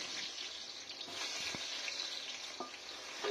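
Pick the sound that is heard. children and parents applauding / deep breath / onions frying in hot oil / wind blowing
onions frying in hot oil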